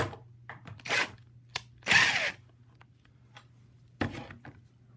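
A power drill drives a number 6 case-hardened screw into wood through a pilot hole in short, separate whirring bursts with brief pauses between them, close and clear over a low steady hum.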